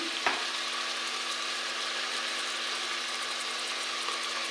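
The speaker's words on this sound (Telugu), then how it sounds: "ఉల్లిపాయ బాగా ఎర్రగా వేగాలండి" Onions fry steadily in a pan with turmeric and salt, a close, even sizzle running throughout with one brief scrape of stirring near the start.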